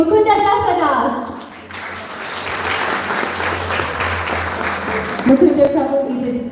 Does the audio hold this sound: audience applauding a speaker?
yes